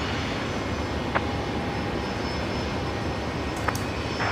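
A Solomon Airlines Airbus A320 arriving on runway 01 right at Brisbane Airport at night gives off a steady, distant jet roar, with a couple of faint clicks standing out briefly.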